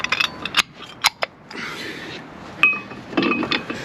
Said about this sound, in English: Put the old brake pad in.